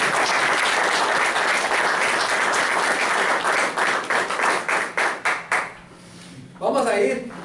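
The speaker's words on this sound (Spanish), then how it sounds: "Y después un fuerte aplauso a Cristo Jesús." Loud church congregation applause at a Spanish-language Christian service, sustained dense clapping that breaks into scattered claps and fades, then a brief swell of voices near the end.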